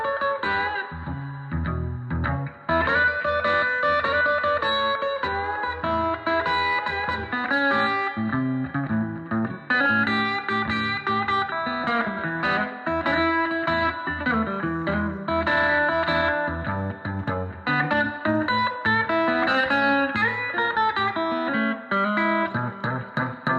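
A distorted electric guitar plays continuous riffs and chords through an LA Jones Super Twin amp converted to Vibroverb, reverb set at about 3, loud and steady with no speech.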